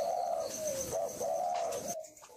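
A spotted dove coos in repeated, close, clear phrases with a steady rhythm and no talking, from a ringed bird kept for sale.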